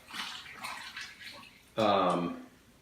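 Salt water brine poured into a dill pickle jar, filling it to the top; a short gurgling pour that swells suddenly near the end, close and clear, following some quieter splashing and low talk.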